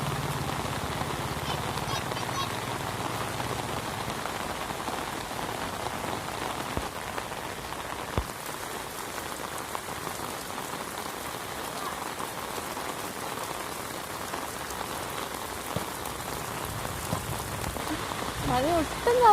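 Heavy monsoon rain pours down steadily outdoors, a dense continuous hiss of drops on surfaces with a few brief knocks, lasting throughout at a fairly loud level.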